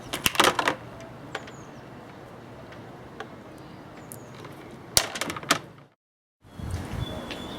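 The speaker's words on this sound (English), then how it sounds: "I'll cut the wires to the right length" Wires for a battery charge controller being snipped to length with cutters, a few sharp close clicks in quick clusters with quieter handling noise between, then a brief silence.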